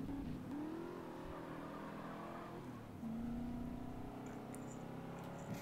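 The Buffalo car engine in Grand Theft Auto: San Andreas drones and revs as it accelerates, its pitch rising and then dropping back at a gear shift, steady and up close with no talking.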